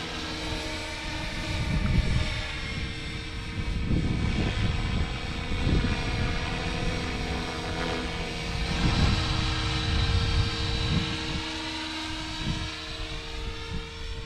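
An Align T-Rex 500 XT RC helicopter on its maiden flight, its steady rotor and motor whine droning continuously at close-to-mid range, rising and falling slightly as it maneuvers, with no talking.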